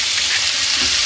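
Chopped onion dropped into hot oil in a pan for an egg pepper fry, a loud, dense hiss of sizzling that fills the moment without any voices.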